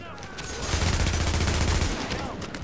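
Automatic gunfire in a The Division Dark Zone firefight: a rapid burst of shots, fairly close, rattles for about a second and a half, then trails off into softer background noise.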